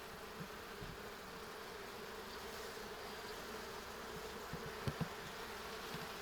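Steady, dense buzzing of many honey bees close by at an open hive as honey frames are placed, with a few soft knocks near the end and no talking.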